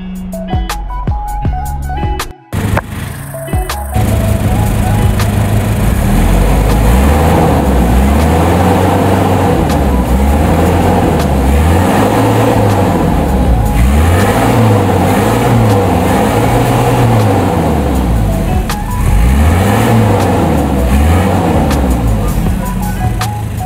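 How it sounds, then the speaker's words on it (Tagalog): A Mazda Bongo single-cab truck with a WL 2.5 engine runs close by. After a few seconds of clatter, the engine revs up and down repeatedly in a steady, rhythmic cycle of loud rising and falling drone. "maririnig niyo naman po yung ingol pa lang sa makina"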